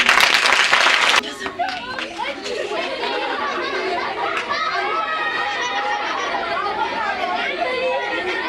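A brief burst of clapping from a puppet show audience opens, then fades into lively crowd chatter and children's voices filling the space.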